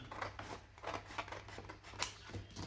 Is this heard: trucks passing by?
no